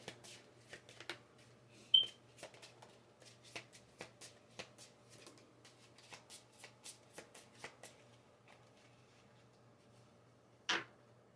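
Tarot cards are shuffled by hand in a string of crisp, quiet riffles and snaps close by, with one sharper knock near the start and a louder bump at the end.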